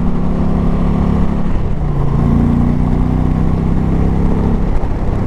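A 2020 Indian Challenger motorcycle accelerates hard in fourth gear, its loud engine note close and droning steadily. The pitch shifts and climbs slightly as it pulls, with heavy wind roar mixed in and no voices.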